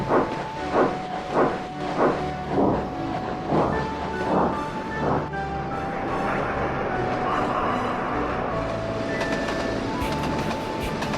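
A train rumbles along the rails with rhythmic clacking over joints at first, settling into a steady, continuous roar with a faint high squeal.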